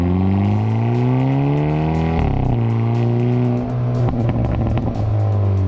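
A 2022 Hyundai i30 N with a new dual-clutch transmission drives hard, its engine and exhaust loud and sustained, with rising revs, a brief shift dip, and crackling pops near the end.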